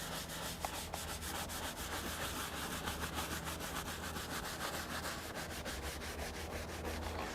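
A brush agitates cleaner into the leather seat of a 1995 Mercedes E320, a continuous run of fast scrubbing strokes heard up close at a low, even level, with no talking.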